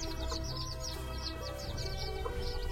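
A hen with a newly hatched chick gives soft clucks and peeps, with a steady run of repeated high chirps over a continuous low background hum.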